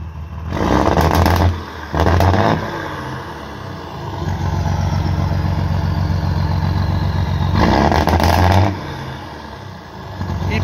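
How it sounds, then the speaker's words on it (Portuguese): A Mercedes-Benz 1621 truck diesel engine, being set to static injection timing, runs at a loud rough idle with a clattery tone, broken by two strong revving bursts near the start and a longer one later. "Acelera aí, Zé Ruela."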